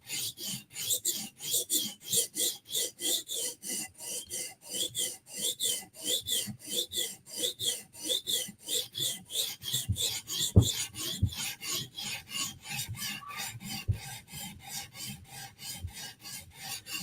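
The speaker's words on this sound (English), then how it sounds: "All right, now we're just going to sharpen." A knife blade rasps across a sharpening stone in a long run of even, rhythmic strokes, roughly two per second, close and clear with no voices.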